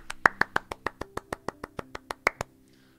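About fifteen crisp single claps land in a quick, even rhythm, close and dry, then stop abruptly.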